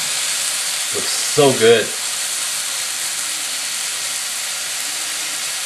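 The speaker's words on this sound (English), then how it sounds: "Now I'm just gonna give them a quick sear on both sides." A whole beef tenderloin sears in a pan with a steady, close hiss of sizzling fat, briefly interrupted by a short spoken remark.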